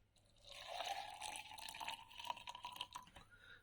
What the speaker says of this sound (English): Pour the hot water on the red cabbage